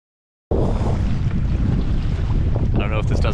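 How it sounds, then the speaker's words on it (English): Strong wind buffets the microphone while waves slap against a canoe crossing a choppy lake, a loud continuous rush starting abruptly after a brief silence, with splashing surges near the end. "these waves are about our max on this boat"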